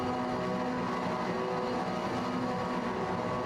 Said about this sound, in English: as the drivers get the revs up